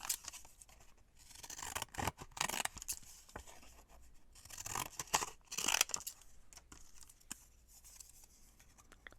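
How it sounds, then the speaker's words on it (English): Decollage scissors snip through a sheet of paper in quick irregular bursts of crisp cutting and rustling, fairly faint and close, with short pauses between strokes and no talking. "Let's cut a piece of paper and see how that looks"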